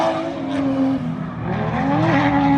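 Cars drift sideways on the North Course race track at night, engines revving in rising and falling harmonic tones with squealing tyres, loud and close, the pitch sweeping as they slide.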